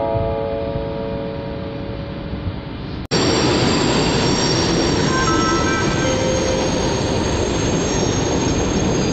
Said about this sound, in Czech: Vlak je připraven k odjezdu.